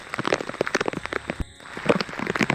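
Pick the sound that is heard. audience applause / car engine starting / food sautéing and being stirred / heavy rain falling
heavy rain falling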